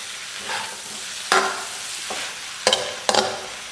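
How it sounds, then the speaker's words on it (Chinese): Lamb offal stir-fried in a hot wok with soy sauce and chili powder, sizzling steadily as a spatula scrapes and tosses it in several sharp, close bursts. "简单给它翻炒一下。"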